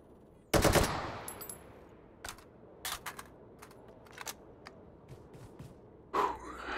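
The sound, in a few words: gunfire in the VR video game Hot Dogs, Horseshoes & Hand Grenades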